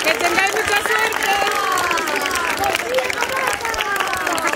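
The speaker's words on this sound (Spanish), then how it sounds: "Muchísimas gracias, un aplauso." Dense, steady applause from an audience at a Lion King rehearsal in Ayamonte, with cheering and excited voices woven through the clapping at close range.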